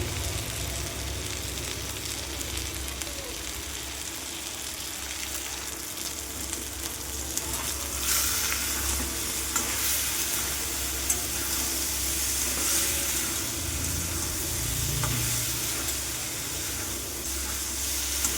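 Okra and potatoes fry in a pan for a poppy-seed dish, a soft continuous sizzle with occasional stirring scrapes, fairly quiet and close, no one speaking.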